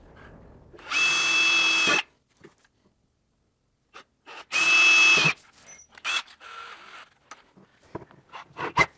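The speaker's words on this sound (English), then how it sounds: "So I'm going to do a 1/4 inch on all 3 because a 1/4 inch is what we need for the top 2" Power drill boring quarter-inch holes in plastic for speakers during a Honda Talon stereo install, two short whining bursts followed by scattered clicks and handling noises, close.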